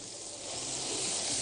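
Chicken frying in a pan with onion, cardamom and bay leaves for chicken machboos, turned over onto its other side. A steady, close sizzle swells louder over a second and a half, with no talking.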